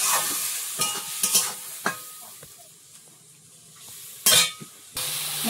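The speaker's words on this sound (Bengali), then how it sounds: "দিয়ে মশলাটা কষিয়ে নেব" Spice paste of coriander powder, Kashmiri chili powder and green chilies with a little water sizzles in a pan while a spoon stirs and scrapes it, giving soft frying hiss broken by sharp clinks and louder sizzling bursts.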